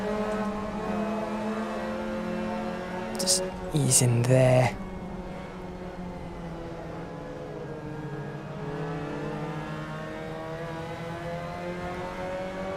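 Mazda MX-5 Cup race cars in Assetto Corsa drone close by with a steady engine tone that rises and falls, briefly louder midway, while someone talks over them.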